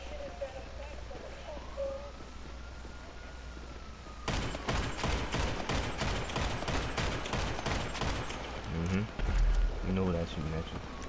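Gunfire in GTA, a rapid string of shots starting partway through and running to the end, loud and close, with people talking over it.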